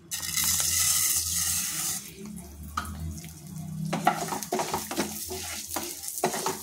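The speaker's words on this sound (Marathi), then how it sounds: "उडदाची डाळ थोडं तेल घालून भाजून घेऊया।" Urad dal roasting in a little oil in a pan, with soft sizzling and intermittent scraping stirs, close and moderately loud, no talking.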